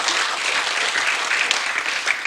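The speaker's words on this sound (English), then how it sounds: "Let's give our dignitaries a round of applause." An audience at a St. Patrick's Day ceremony for Essex County Freeholders applauds its dignitaries, steady dense clapping that fills the room throughout, loud and close.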